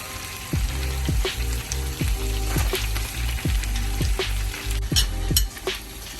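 Hot oil poured over raw onions for tandoori chicken hisses in a strong, close sizzle, punctuated by a regular series of sharp metallic clinks roughly every half second to second, with no talking.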